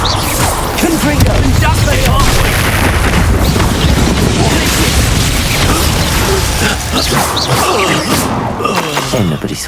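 A Confringo spell in Hogwarts Legacy sets off loud, dense booms and crashing bursts that go on without letup, with combat effects and voices mixed into the chaos.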